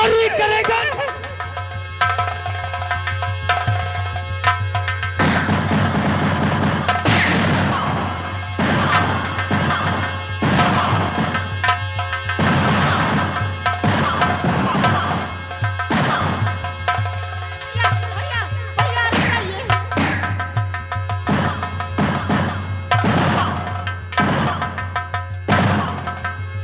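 A man beaten in a village folk theatre nautanki staging, a long run of loud smacking blows and thuds in uneven bursts over a constant low hum, raucous and close.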